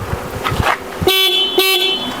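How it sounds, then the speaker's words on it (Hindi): An Indian electric rickshaw horn beeps twice in short, bright toots, loud and close, after some faint background clatter. "ये देखिए ये हॉर्न है इसका"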